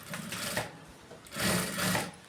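A sewing machine stitches a cross piece onto a garment neckline in two close, steady bursts of whirring, with a short pause between them and no voices.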